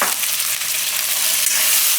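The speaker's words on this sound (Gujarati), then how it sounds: "અને તેલમાં પાકવા દઉં, વચ્ચે વચ્ચે આપણે હલાવતા રહીએ." Peas and potatoes cook in hot oil in a pan, giving a steady, loud, close sizzle. The hiss holds without a break under continuous stirring, with no voices.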